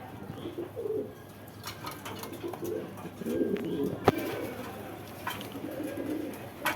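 Several Pakistani Giribaj pigeons coo softly and repeatedly in a cage, low rolling calls overlapping at close range, with a few brief clicks and faint background rustle.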